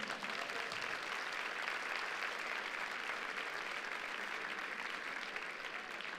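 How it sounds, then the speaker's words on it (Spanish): A church congregation applauds during a pastor's sermon, a broad, even roar of many clapping hands heard from a distance, sustained for several seconds with no speech. "Denle un aplauso a Goliat."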